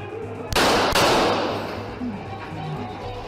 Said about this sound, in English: one of the officers pulls out his gun with a one-handed draw and shoots the suspect in the face